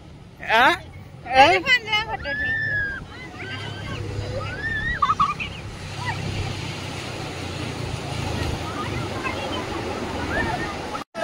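Sea waves wash steadily onto a beach, a broad continuous roar of surf under scattered shouts and chatter from people nearby.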